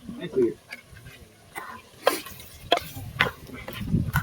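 Spoon stirring a tomato mixture in a cooking pan, several short scraping and clinking strokes at close range, with someone talking and faint sizzling between them.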